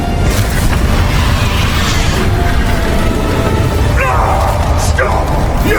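Booming spell blasts in the Hogwarts Legacy game, a dense roaring barrage loud throughout, with a voice calling out spell names over it and bright whooshing bursts near the end.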